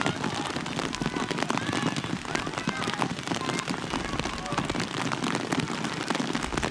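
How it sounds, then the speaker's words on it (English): Heavy rain pounds down on a soccer field during a women's college match, a dense, continuous patter and hiss under a commentator's voice. "Rain is pounding down here at Jeffrey Field."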